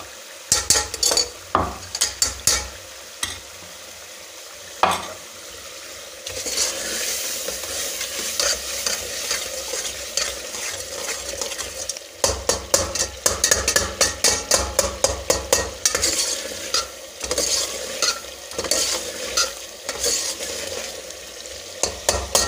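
Spices sizzling in hot oil in a pan for dal mash, with dried coriander added, as a spoon stirs and scrapes the metal; steady frying hiss under repeated clattering strokes, near and fairly loud, no voices.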